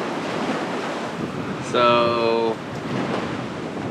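Waves wash and churn around a sailboat on the Chesapeake Bay under strong gusty wind, a constant broad rushing roar with buffeting wind on the microphone, while a person briefly talks over it.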